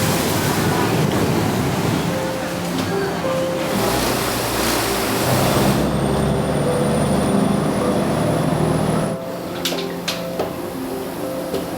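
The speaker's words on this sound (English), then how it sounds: "there's these boats that are called the clone boats, and it's an easy way to go from this area all the way to downtown." Loud, steady engine drone and rushing water wash of a khlong boat running along a Bangkok canal, continuous throughout, with brief tonal whines and a sharper splash near the end.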